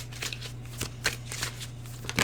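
Tarot cards being shuffled and drawn: soft, close riffling rustles and light flicks of card stock come in quick irregular bursts, with a few sharper taps over a steady low hum.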